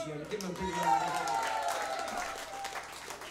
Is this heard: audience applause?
yes